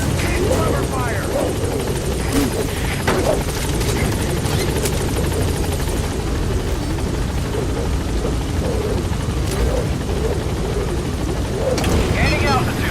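A helicopter lifts off from a landing zone in Metal Gear Solid V: The Phantom Pain. A loud, steady rotor roar runs throughout with faint radio voices.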